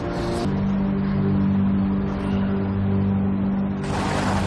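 A 1970 Cadillac DeVille engine drones steadily while driving, a constant low hum running throughout with faint road noise, near and moderately loud.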